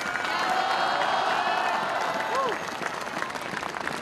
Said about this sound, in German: Ein Applaus, unsere Leitschreiber